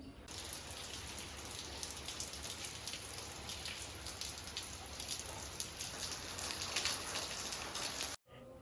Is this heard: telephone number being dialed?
no